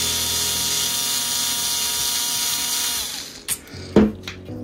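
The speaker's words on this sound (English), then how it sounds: "I'm gonna use a bit of a power tool here to get it off" A power driver removing a 2mm hex screw from a Maverick Quantum Flux reel whirs steadily at close range for about three seconds, then cuts out, followed by a couple of short clicks and clattering knocks.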